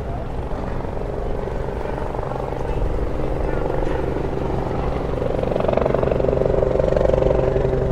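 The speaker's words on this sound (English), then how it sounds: "That is a cool-looking helicopter." A helicopter's steady rotor drone fills the clip, growing slightly louder toward the end as it passes close overhead.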